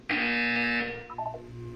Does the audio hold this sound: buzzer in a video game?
yes